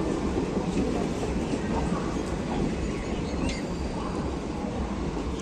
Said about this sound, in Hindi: ये ट्रेन आ चुकी है, और भाई काफ़ी पास हो चुकी।